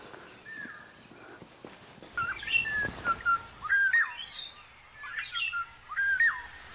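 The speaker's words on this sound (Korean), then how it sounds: "오, 이제 여름 새들이 속속 도착하는군요." Several summer birds sing clear, whistled phrases in repeated bursts in a garden, fairly close, with faint rustling and quiet background noise.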